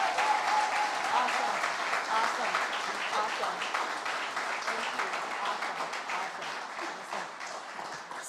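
Applause at an employee award ceremony, a broad room full of clapping that starts strong and gradually thins, while a voice briefly speaks over it.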